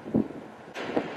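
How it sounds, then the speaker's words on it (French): Strong wind buffets the microphone in Brooklyn Bridge Park, New York, a broad, rushing roar with two heavier gusts, one near the start and one near the end of the short stretch. "il y a beaucoup de vent"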